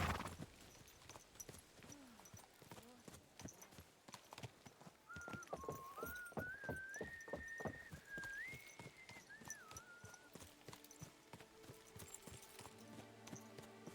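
Horse hooves clip-clopping in a steady rhythmic gait, a whinny near the start and a rising whistled tone over the hoofbeats in the middle, set against a soft game soundtrack.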